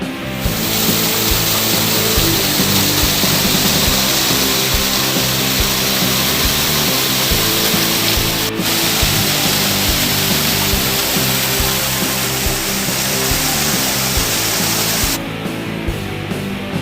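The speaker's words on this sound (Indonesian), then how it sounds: "akhirnya kami menemukan air terjun Suangga. Ini adalah air terjun yang posisinya paling atas." Suangga waterfall, the uppermost tier at Bulusaraung, roars as a dense, steady rush of falling water, loud and close throughout with no voices.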